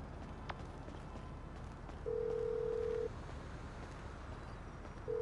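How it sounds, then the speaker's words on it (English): A phone ringtone in Grand Theft Auto V plays as a steady tone lasting about a second, repeating after a pause, over a low game background hum. "Whoa, who changed my ringtone?"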